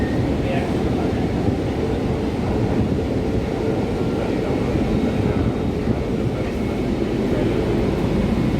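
A metro train runs between stations in a steady, close, loud rumble of wheels and motors, heard from inside the carriage with no distinct breaks.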